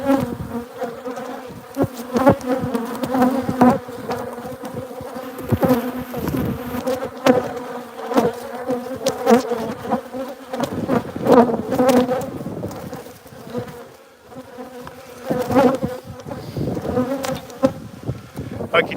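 Bees hum around a hive in a close, loud swarm, their buzzing swelling and fading as individual insects pass near, with distinct drones layered over a steady murmur.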